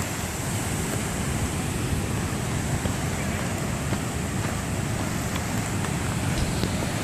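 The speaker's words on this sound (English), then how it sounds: "Look at that crystal clear water. It's just rushing and gushing" Rushing water of a waterfall stream at Grizzly Falls in the Trinity Alps roars steadily and loudly, a dense unbroken wash of noise, close by with some wind buffeting the microphone.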